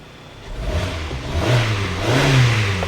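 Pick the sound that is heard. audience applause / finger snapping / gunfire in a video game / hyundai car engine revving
hyundai car engine revving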